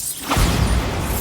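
A Bombarda spell explosion in the Hogwarts Legacy video game: a loud, near booming blast with a rushing whoosh that swells and then holds as a broad rumble.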